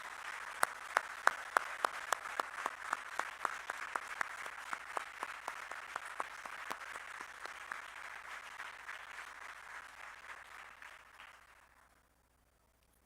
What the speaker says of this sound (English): let's all stand up and give him a round of applause